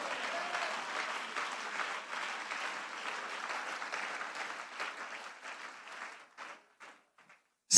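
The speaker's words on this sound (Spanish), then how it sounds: "¿Cuánto le dan un aplauso y dice: todo es del Señor?" A church congregation applauds, with dense clapping sustained for several seconds before thinning into scattered claps and fading to silence.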